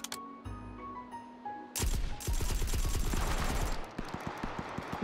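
Suppressed gunfire in the VR game Hot Dogs, Horseshoes & Hand Grenades: a few clicks and handling sounds, then a loud rapid burst of muffled shots followed by a slower string of single shots.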